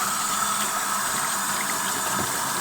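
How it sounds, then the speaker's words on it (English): A sink tap runs steadily as a screen-printing screen is rinsed on both sides, giving a constant near rush of water with faint shifts in tone and no speech. "So we're just gonna wash out the screen,"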